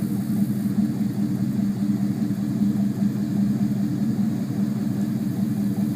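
A lifted 2010 Chevy Silverado LT with dual exhaust runs at a steady, low, rumbling idle, close by and continuous throughout with no talking.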